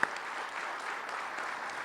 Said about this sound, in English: Let's give him a round of applause for being with us today.